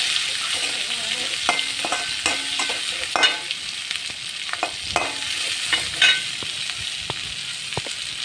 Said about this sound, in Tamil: வெங்காயம் நல்லா வதங்கிட்டுருக்கு